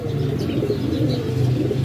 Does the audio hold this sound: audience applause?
no